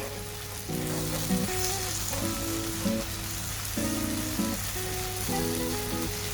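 Fennel and spice powder frying in hot oil in a pan while cooking chicken roast, a steady close sizzle with a low constant hum and bursts of bubbling crackle, no voices.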